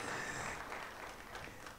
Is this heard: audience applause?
yes